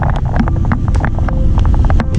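Cars pass on a rain-soaked road with puddles along the edge, a loud wet hiss and rumble heard from a bicycle with wind buffeting the microphone.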